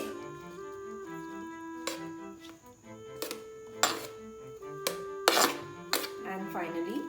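A knife chops cucumber on a cutting board for pasta salad, giving sharp, irregular close taps under a faint steady background hum, with no talking.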